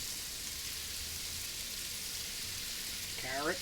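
Onions and garlic sizzle in a cast iron pan alongside seared beef short ribs, a steady broadband frying hiss throughout with a brief brighter crackle near the end.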